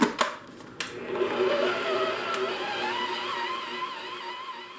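A kitchen mixer churns potato burger bun dough with a steady, continuous mechanical whir that holds at an even level after a few brief knocks at the start.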